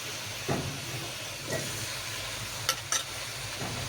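Garlic, green chillies and onion fry in a pan, sizzling with a steady loud hiss, with several sharp spatula scrapes and clinks against the pan.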